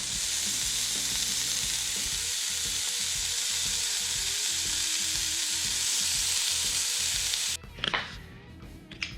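Whitetail deer heart searing in a hot pan, a loud continuous sizzle with low crackling that cuts off near the end, followed by a few brief clatters.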